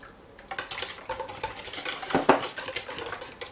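Two eggs cracked into a mixing bowl for a banana crumb cake, with light clinks of shell and utensil against the bowl and a sharper knock near the middle, no talking.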